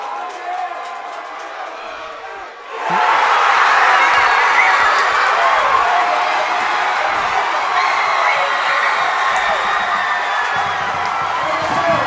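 A high school football crowd erupts after a championship-winning 40-yard field goal in a region title game, starting with distant murmur before a sudden loud roar of cheering and whooping that stays loud for the rest of the clip.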